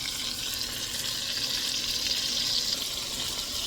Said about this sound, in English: I'll just sear them and I'm going to blacken them, cook them till they're done through.